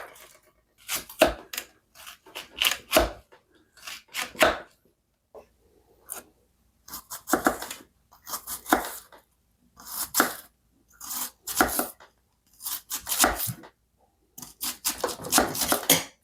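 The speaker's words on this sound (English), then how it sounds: "I'm going to prep half of an onion with each one of these knives and see how they do." A Morakniv knife dicing half an onion on a cutting board, a series of crisp, crunchy chops in irregular clusters with short pauses between, close and clear with no talking.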